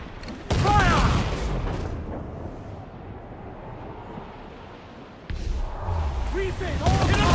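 Ship cannons firing in a naval battle in Assassin's Creed 4 Black Flag, heavy booming blasts and rumbling volleys at the start and again near the end, with shouting crew voices and a sustained roar of wind and sea between.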